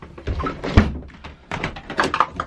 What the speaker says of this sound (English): I'm gonna pop the door open a bit